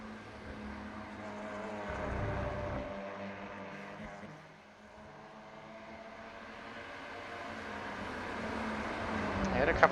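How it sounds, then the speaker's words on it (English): TCR touring race cars run in iRacing at Brands Hatch GP, their engine drone rising and falling as they pass, with a dip in the middle and a commentator talking over the sound. "These TCRs do make all sorts of strange noises"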